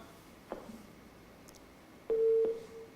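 Electronic telephone dialing tones beep twice in quick succession, steady and fairly close, after a couple of faint clicks, with no speech over them.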